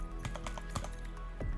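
Fingers type on a computer keyboard, a quick run of close, light key clicks in an uneven rhythm over a quiet background hum, with no one speaking.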